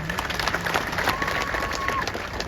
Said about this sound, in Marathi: यांच्या हिमतीला पुन्हा एकदा लाख ज्या जोरात टाळ्या द्या.